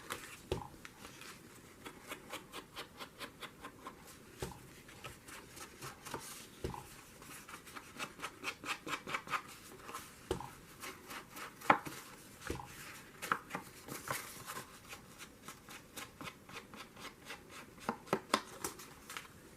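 Ink being rubbed onto journal paper to distress it, heard as many quiet, rhythmic scrubbing and dabbing strokes in quick bursts that continue for about twenty seconds, with a few sharper taps.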